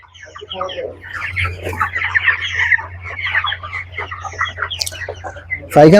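Chickens on a poultry farm cluck close by in busy overlapping bursts, with a loud sharp call breaking out at the very end.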